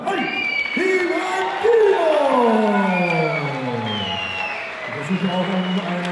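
Crowd at an MMA event applauding and cheering a fighter after a knockout, a dense roar with whoops and rising shouts, with an announcer talking over it.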